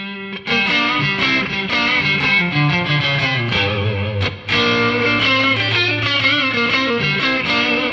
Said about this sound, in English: Oh, there's double reverb.